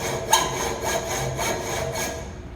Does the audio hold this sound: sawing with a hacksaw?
yes